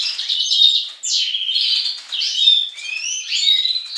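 Caged greenfinch chirping and twittering continuously in bright, rapid trills and tweets, close and clear with no talking.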